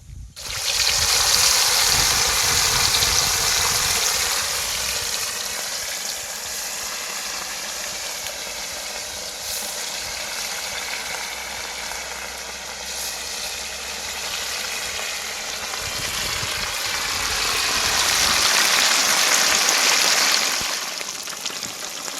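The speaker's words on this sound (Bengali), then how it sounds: "অল্প পরিমাণে ভাজবো খুব বেশি ভাজবো না" Pieces of katla fish fry in hot oil, a loud, continuous close-up sizzle that swells at the start and again near the end, with no talk over it.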